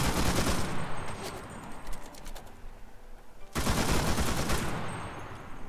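A squad opens fire in Cuisine Royale: rapid bursts of automatic gunfire, a quieter lull, then a second sustained volley, loud and close.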